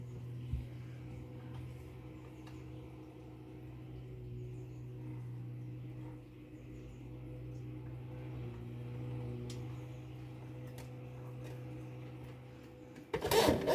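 A sewing machine hums steadily at low level throughout, a faint continuous mechanical drone with a few soft clicks, ending in a brief louder rattle.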